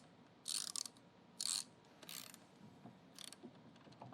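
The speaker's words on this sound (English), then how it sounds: "Take your socket, tighten it back down." Socket ratchet tightening a bolt on a Nilfisk Adfinity 20D scrubber, several quick close bursts of rapid clicking separated by brief pauses, with fainter clicks at the end.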